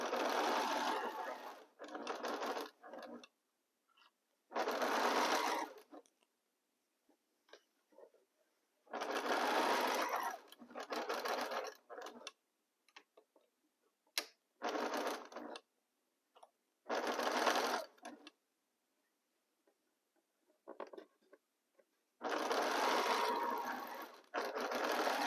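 Sewing machine stitching fabric for a pieced box, running in repeated bursts of a few seconds each with pauses between, close and steady, with no voices.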